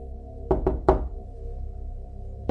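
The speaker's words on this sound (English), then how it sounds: "It was a soft, rhythmic knock on the front door." Soft knocking on a front door: three close, rhythmic raps, then a pause and a fourth knock at the end, heard alone over a low steady background hum.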